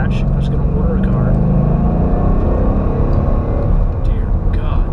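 A 2012 Ford Mustang GT engine rumbles loudly and continuously, a deep close-up roar with throttle swells and faint clicks on top.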